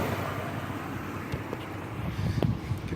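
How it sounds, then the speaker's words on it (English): A 2010 Chevrolet Colorado LT truck engine idles quietly, a steady low rumble with wind buffeting the microphone and a few faint knocks. "The engine is very quiet when it's idling."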